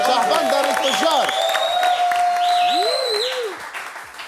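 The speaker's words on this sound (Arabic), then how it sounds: "تصفيق كبير على دنجور شهبندر التجار" A studio audience on a Tunisian TV show claps steadily and loudly throughout, mixed with shrill whistles and rising and falling cheering tones.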